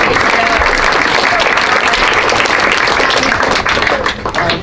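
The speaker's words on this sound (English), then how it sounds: "So let's have another round of applause for the PTO." An audience applauds the PTO at a school crankie performance with a loud, dense wash of many hands clapping that holds steady, then thins and fades toward the end.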